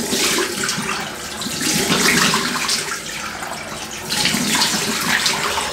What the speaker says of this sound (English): have a quick rinse